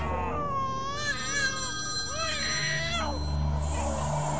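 A mobile phone rings with a rising and falling melodic tone, playing several repeated phrases at moderate volume in a quiet room.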